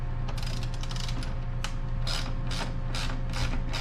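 A ratchet driving a T25 Torx bit loosens the plastic air filter housing bolts on a 2009 Mercedes-Benz E350, giving close bursts of rapid clicking that start and stop in short runs over a steady low hum.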